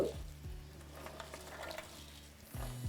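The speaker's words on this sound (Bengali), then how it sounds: "আপনার আলু আর টমেটোর সাথে এইভাবেই ভালো করে ভেজে নিতে হবে" Potatoes, tomatoes and onion greens fry in a pan, a soft steady sizzle with faint stirring scrapes and clinks of a utensil against the pan, quiet and close, with no talk over it.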